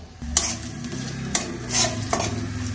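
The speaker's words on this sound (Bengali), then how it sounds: "কড়াই প্রথমে দিয়ে দেবো সরিষার তেল, তেজপাতা, শুকনো লঙ্কা আর জিরে ফোড়ন দিয়ে নেবো" Bay leaf, dry chilli and cumin crackle in hot mustard oil in a wok, a close sizzle punctuated by a few sharp scrapes and knocks of a stirring utensil, with a low hum beneath and no speech.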